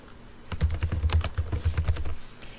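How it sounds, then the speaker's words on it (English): Quick, uneven keystrokes on a computer keyboard, close and clear, a short burst of about a dozen taps with no voices over them. "Up here, you will be typing your name."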